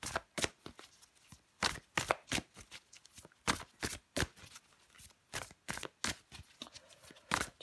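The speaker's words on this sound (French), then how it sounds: "je prends encore une carte pour vous, les taureaux" Tarot cards being shuffled by hand, a rapid run of crisp papery riffles and slaps in an irregular rhythm, close and clear with no talk over it.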